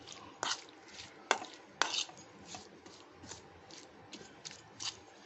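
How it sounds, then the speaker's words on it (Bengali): Spiced chili paste being mixed by hand in a bowl for Noakhali-style morich khola, a quiet steady squish punctuated by several sharp clinks and taps against the bowl, close up with no voices. "এটা মেখে নিচ্ছি এরকম করে, মিশিয়ে নিচ্ছি"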